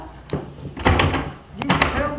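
A door is tried and rattled in a few quick, loud knocks and jolts, amid nervous talking.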